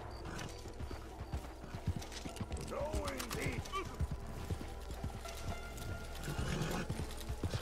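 Horse hooves clip-clop in a steady, uneven rhythm, with a brief whinny partway through. Voices talk over the hoofbeats throughout.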